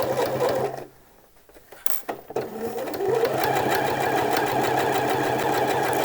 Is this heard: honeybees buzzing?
no